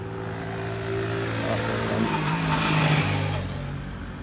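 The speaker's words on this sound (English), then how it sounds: "The cars climbing up." Cars climbing a mountain road in the Aburi hills, a moderate engine drone that swells and fades over a few seconds as a vehicle passes, with faint background hum.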